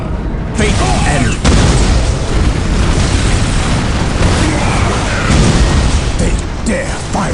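Weapons fire and explosions in the strategy game Dawn of War: Dark Crusade, a Space Marines battle with dense booms and gunfire bursts running loud and continuous, and a game voice talking over the din.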